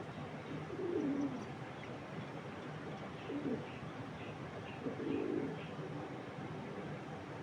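Andijan pigeons coo in three soft, low, rolling bursts spaced a few seconds apart, set against a steady background hiss, moderately near and fairly faint.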